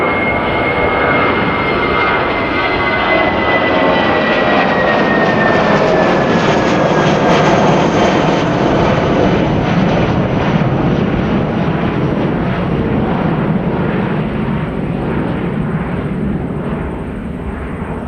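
A Jetstar airliner flies past during plane spotting, its jet engines a loud, sustained roar with a slowly falling whine as it passes, fading slightly at the end.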